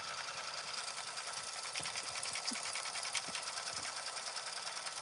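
An embroidery machine stitches the background fill of a patch with a fast, steady, even needle chatter that runs unbroken at moderate loudness throughout.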